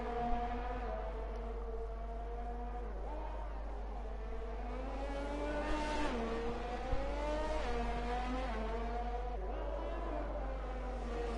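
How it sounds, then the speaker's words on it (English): Race cars roar around the Hungary circuit in a racing video game, their engines loud and sustained with repeated rising and falling revs and gear shifts as several cars pass close by. "Can you actually hear me over the cars now?"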